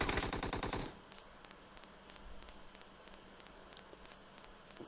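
In PUBG Mobile, a rapid burst of automatic gunfire rattles loud and close for about a second, then gives way to quieter sparse distant shots over a low rustling background.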